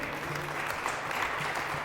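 A church congregation breaks into steady, sustained applause that fills the space at an even, dense level throughout, with no individual voices standing out.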